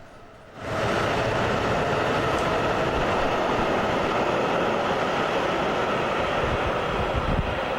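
A train rumbles past close by, a sudden steady roar of wheels and rail noise that holds loud and continuous.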